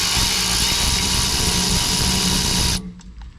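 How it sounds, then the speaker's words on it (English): An electric ratchet whirs continuously up close, loosening a brake caliper bolt on a Silverado/Sierra, then cuts off abruptly, leaving a few faint clicks. "Using my ratchet, electric ratchet."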